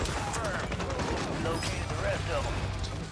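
Shooter video game gunfire rattles as a dense, continuous volley of rapid shots, moderately loud and steady throughout, with talk faintly mixed in.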